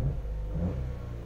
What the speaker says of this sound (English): how engine is, you know, revving when you are pressing it